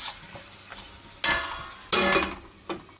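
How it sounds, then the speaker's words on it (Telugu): Tempering spices sizzle and crackle in hot oil, with bursts of frying as ingredients hit the pan and are stirred, close and moderately loud, while making lemon coriander chutney. "పోపు ఉంది కదా ఫ్రెండ్స్, ఫస్ట్ ఇది వేపేస్తాము."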